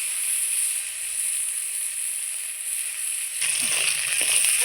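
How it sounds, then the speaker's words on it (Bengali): Eggplant slices frying in oil in a pan, a steady close hiss of sizzling that swells and crackles louder in the last second. "আমার বেগুন ভাজা খুব সুন্দর হয়ে গেছে, লাল লাল একদম"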